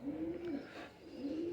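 Pigeons, including birds brought from France, give two soft, throaty coos, close and quiet, separated by a short pause, with no talk over them.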